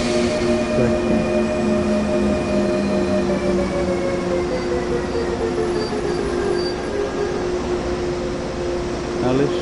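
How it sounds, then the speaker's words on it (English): Locomotive rolling in Train Sim World 2 on the Cologne high-speed line, a loud steady rumble with sustained tonal whine and rail noise throughout. "Now let's bring this locomotive"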